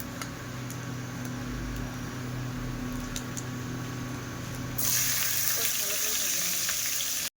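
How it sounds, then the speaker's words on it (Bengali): Hot oil sizzles and crackles steadily as mustard seeds, dry red chillies and nigella seeds temper in a pan, turning sharply louder and brighter partway through, with a low background hum and no talking. "সর্ষে আর শুকনো লঙ্কা কালো জিরে দিলাম একটু ফোড়নে"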